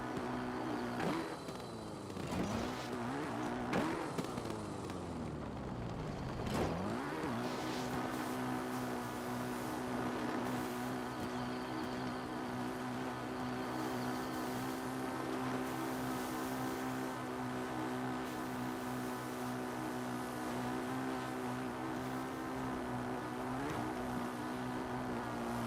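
Steady, loud combustion-engine drone from a vehicle in the Zelda Champion's Ballad DLC, with a few sharp revving sweeps early on before settling into a constant hum with a wind-like hiss.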